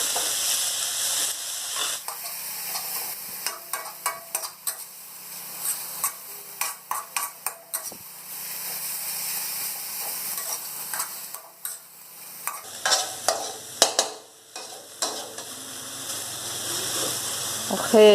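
Bamboo shoots hit a hot pan and sizzle with a steady hissing fry, broken by repeated scraping stir strokes up close; a voice speaks briefly among them.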